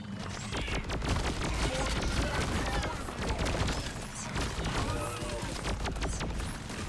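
A flamethrower in Deep Rock Galactic fires continuously with a loud, steady roaring rush, mixed with crackles and chaotic combat noise throughout.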